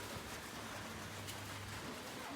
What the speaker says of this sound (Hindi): तो दोस्तों बारिश तेज हो चुकी है